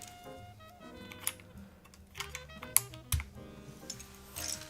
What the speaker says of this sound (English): let's just install the last few keycaps here.